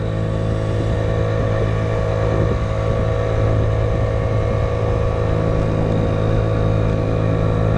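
A Sprint moped fitted with a Malossi 80cc cylinder, running with its speed limiter on, is held at full throttle, giving a loud, steady buzzing engine drone that continues unbroken with no talking.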